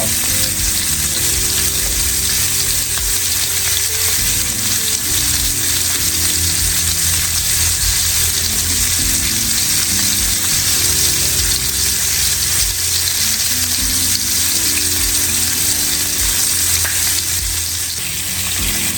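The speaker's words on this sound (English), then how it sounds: "Alright, so we're searing the sides now." Short ribs sear in a hot pan with a loud, constant sizzle and crackle of frying fat that runs steadily throughout, with no talking.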